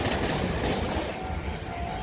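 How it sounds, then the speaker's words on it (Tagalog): A train rolls past close by, a loud steady rumble with rhythmic clacking of wheels over rail joints and a faint thin squeal, with no talking. "Ayan, dumaan na yung tren guys."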